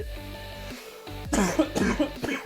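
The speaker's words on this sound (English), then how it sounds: "Sorry for the cough." A few rough, harsh coughs in quick succession, close to the microphone, after a stretch of quieter low sound.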